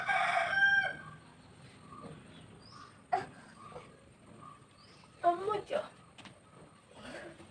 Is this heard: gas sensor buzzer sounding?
no